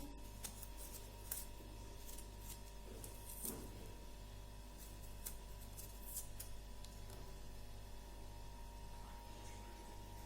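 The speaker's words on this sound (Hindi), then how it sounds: "अब एक नाइफ की मदद से आपने इसको ऊपर से इसका पील उतार लेना है।" A knife scrapes the skin off a piece of fresh ginger in a series of faint, quick close-up scraping strokes over a low steady hum, with no talking.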